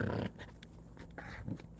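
Adult gray dog giving a short, low growl at a puppy, a rough rumble with snorting breaths, followed by a second brief grumble, close and without talk.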